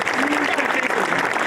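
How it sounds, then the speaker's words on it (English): Short burst of crowd applause for the guests at a hotel ribbon-cutting ceremony, moderately loud, with a voice talking over the clapping. "give these guys a round of applause again"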